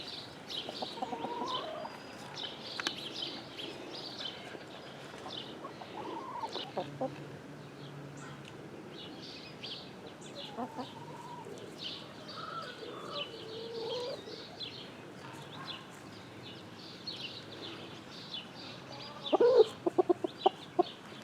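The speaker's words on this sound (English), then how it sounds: "That was Romeo telling them that there's stuff here to eat" A rooster clucks and calls out to hens outdoors at a backyard flock, his short clucking bursts repeating among softer hen chatter and other birds, with a brief louder flurry near the end.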